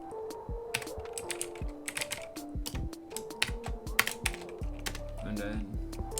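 Code being typed on a computer keyboard: irregular bursts of quick, close key clicks with brief pauses, under faint low-level talk.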